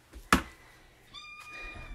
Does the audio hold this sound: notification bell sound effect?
no